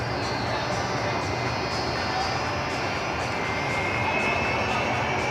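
A UPS jet aircraft taxis at Cleveland Hopkins airport, producing a steady, loud engine roar and whine that holds constant at a middle distance with no pauses.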